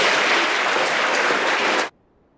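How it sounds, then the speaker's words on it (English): Applause from a school assembly crowd at a Veterans Day event fills the hall loudly and steadily, a dense wash of many clapping hands that cuts off abruptly near the end. "Let's give them a round of applause."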